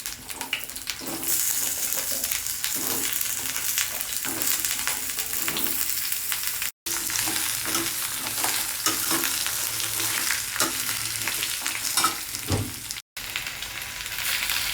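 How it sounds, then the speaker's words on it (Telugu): Okra sizzles and crackles steadily in hot oil in a pan, close up. A few stirring scrapes come through, and there are two brief cuts in the sound. "1/2 కిలో బెండకాయలు ముందర వేసుకుందాం నూనెలో."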